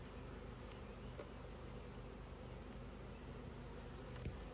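A dense, steady drone of many bees buzzing around a hive, continuous and fairly close, with no voices.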